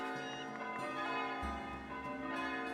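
Several bell towers in the medieval town-building game Foundation ring together in a dense, sustained peal, steady and fairly loud throughout with no talking.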